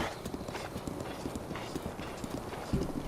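Horse hooves clopping steadily along a path in The Legend of Zelda: Breath of the Wild, a continuous rhythmic trot at moderate volume with faint game ambience underneath.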